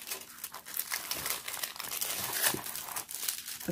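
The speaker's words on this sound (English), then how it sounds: "The plastic is stuck on here." Plastic wrapping peeled off a small fox figure unboxed from an Amazon package, stuck on with glue: a close, continuous crinkling and tearing rustle with no speech.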